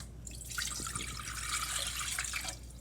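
Water, about three cups, poured from a container into a pan in one continuous splashing stream lasting a couple of seconds, close and moderately quiet in a kitchen.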